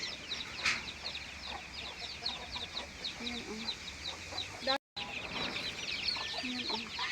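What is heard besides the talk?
chickens clucking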